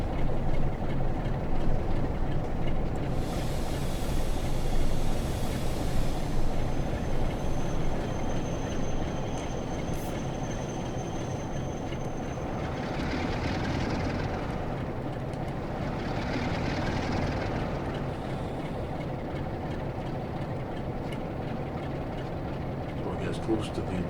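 In Train Sim World 6, a Class 47 diesel locomotive hauls a short rake of loaded stone wagons, giving a steady low rumble and rolling rail noise with faint hissing swells, while someone talks throughout.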